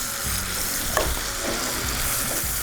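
Bagoong shrimp paste sautéing in a hot pan for ginataang sinantolan, a steady close sizzle and hiss with occasional stirring scrapes, no talking.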